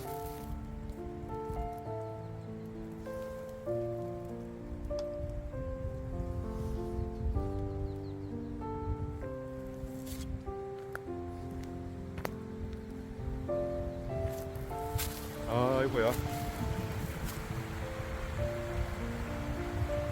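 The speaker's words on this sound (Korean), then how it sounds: "계곡 물소리 좋습니다" Water of a mountain valley stream rushes and babbles steadily at low volume in a rural mountain village, with a gentle melodic tune playing faintly over the flow.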